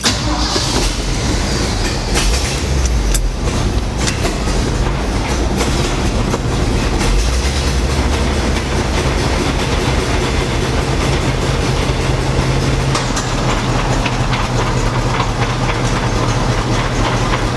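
A heavy dump truck engine runs continuously up close with loud rumbling and rattling drivetrain noise from a suspected transmission or driveline fault, steady throughout without talk.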